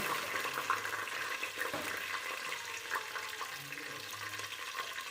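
Green chillies go into a hot pan with oil and whole spices while veg palav is being cooked, giving a steady, close hiss and crackle of frying that runs unbroken throughout.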